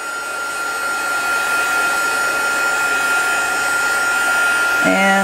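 A hair dryer drying wet cardstock blows steadily with a constant whooshing hum, loud and close, running without pause.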